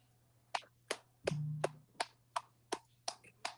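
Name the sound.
hand clap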